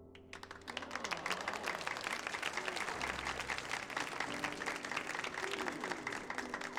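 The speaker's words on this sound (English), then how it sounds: "Applause." Applause in a Final Fantasy XIV Heavensward cutscene, a dense continuous patter of many hands clapping, moderately loud and steady, with faint voices underneath.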